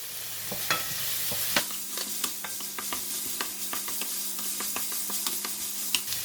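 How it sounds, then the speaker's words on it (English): Chili stir-fried with kaffir lime leaves and herbs for clams sizzles in the pan while a spatula clacks and scrapes in quick, irregular strokes, close and busy with no voices. "And now I'm going to add in the chili."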